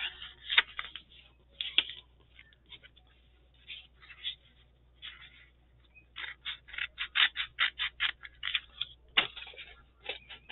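Scissors snip through paper or fabric close by in quiet surroundings, a series of crisp cuts that come in short bursts and then turn into a quicker run of steady strokes.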